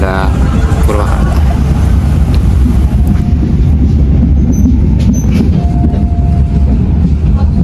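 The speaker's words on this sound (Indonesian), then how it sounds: "Kereta api diberangkatkan kembali dan benar hampir terisi full setiap rangkaiannya" The Walahar local passenger train pulls out of Karawang station in West Java, a loud, close continuous rumble of wheels and rail noise with brief squeals, as a voice talks over it.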